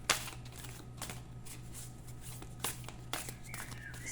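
A deck of oracle cards is cut and handled in several quick papery riffles and soft slaps, close and fairly quiet, against a low steady hum.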